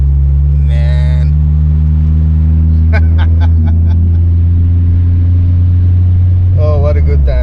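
A turbocharged and supercharged Mk2 Volkswagen Golf engine holds a loud, steady droning note throughout, with brief whistling bursts near the start and end and a few sharp clicks in the middle.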